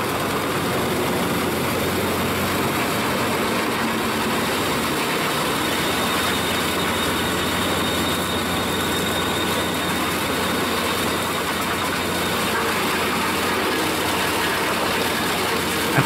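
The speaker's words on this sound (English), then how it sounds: "At the heart of this wood-chipping marvel roars a 12-cylinder Caterpillar engine, unleashing an awe-inspiring 1150 horsepower to propel the Pezzolato drum chipper into action" Pezzolato drum wood chipper powered by a 1150-horsepower 12-cylinder Caterpillar engine, running as a steady, loud, continuous drone with broadband roar and no breaks or talk.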